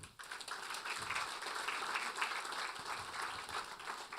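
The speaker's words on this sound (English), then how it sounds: "give him a round of applause" Steady applause from a sizable crowd at a tribute event, dense and sustained for several seconds, heard from within the room.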